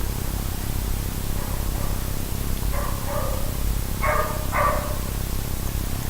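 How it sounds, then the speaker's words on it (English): A dog barking a few times in the distance, short muffled barks rising near the end over a constant hiss of static. "We have a doggy."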